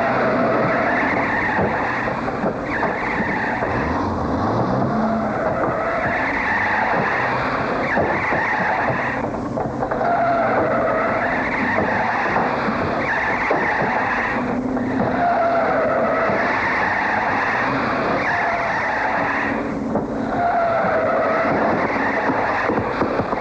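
A speeding car with skidding, squealing tires roars steadily throughout, a loud continuous engine and tire noise with periodic swells, in a French action film chase scene.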